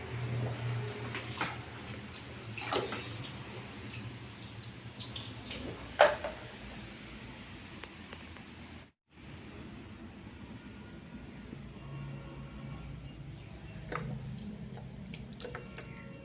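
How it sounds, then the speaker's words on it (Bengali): Water from a timed municipal household tap runs into a container with a steady rushing flow, a few splashes and clunks, and a brief cut-out partway through. "দেখো, আমাদের জল ভরে গেছে। এটা হচ্ছে টাইম কলের জল।"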